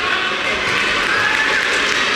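A basketball crowd at a Wildcats home game roars steadily and loudly, a dense continuous wall of cheering with no breaks throughout.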